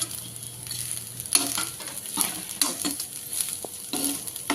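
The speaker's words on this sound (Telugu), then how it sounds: "ఇదంతా మిక్స్ చేసుకొని ఒక టూ మినిట్స్ ఫ్రై కావాలి" Okra pieces with fried peanuts, curry leaves and green chillies stir-fried in a pan for okra masala rice: a soft sizzle under repeated scraping strokes of a spatula, several distinct stirs close by.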